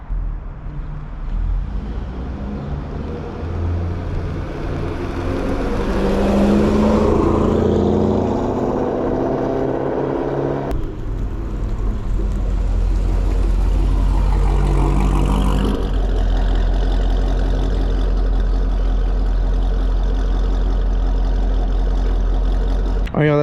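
A C6 Corvette on new custom wheels drives past, its engine growing louder as it approaches, swelling into a close pass, then fading before a second deep rumble stays loud and near.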